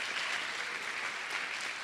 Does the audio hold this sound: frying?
no